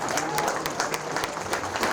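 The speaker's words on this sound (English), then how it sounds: "Another round of applause for Les, please." A room of people applauds a veteran receiving a Quilt of Valor at an American Legion ceremony, with dense, steady clapping close by for about two seconds and a faint murmur of voices underneath.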